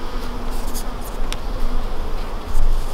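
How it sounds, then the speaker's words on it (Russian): Steady buzzing of many honeybees, many of them young, around a hive at an apiary in spring, a dense continuous drone with individual bees passing close now and then. "Много-много молодой пчелы"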